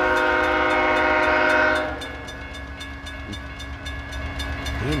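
A freight train hauled by BNSF and Union Pacific locomotives passes at Emmons Boulevard in Wyandotte, Michigan, loud and close, with a sustained horn blast that cuts off, then rumbling cars and rhythmic clickety-clack continuing past.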